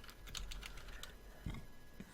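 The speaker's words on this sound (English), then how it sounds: "while we've been talking, I've been typing up the order in proper form" Quiet typing on a computer keyboard, a quick run of soft key clicks followed by a pause and a few more taps, close and faint in a calm room.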